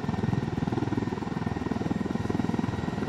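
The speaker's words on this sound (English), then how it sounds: "It is a helicopter." Helicopter in the video game Ghost Recon Wildlands, a steady rhythmic rotor chop with an engine hum underneath, close and continuous without any voices.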